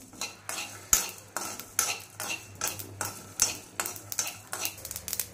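Cumin, cloves, cardamom, cinnamon and dry coconut dry-roasting in a pan, with a rhythmic series of spatula scrapes and light clinks against the metal about twice a second over a faint background, no voices.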